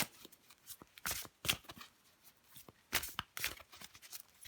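Tarot cards are shuffled close by in several quick riffling bursts separated by brief pauses, crisp papery flutters with light taps in between.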